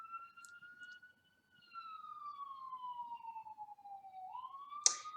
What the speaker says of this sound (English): Ambulance is going through the intersection.